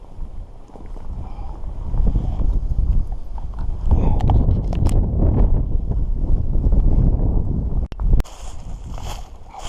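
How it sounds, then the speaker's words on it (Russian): Strong wind buffets the microphone on a lake, a loud, gusty low roar with some water slapping and a few clicks near the end. "Ветер не стихает."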